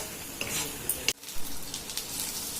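Pulichai keerai thovaiyal being sautéed in oil in a pan, a quiet continuous sizzle with a couple of soft stirring scrapes and clinks.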